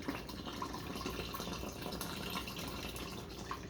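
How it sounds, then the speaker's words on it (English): Fruit punch drink mix is poured into a container, giving a steady, close, soft liquid splashing and trickling for several seconds without talk. "Always shake it up, and then we're going to pour it in there."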